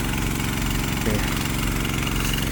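A large orange tractor engine running in a rice paddy field, a loud, steady close-up drone that holds without a break from start to finish.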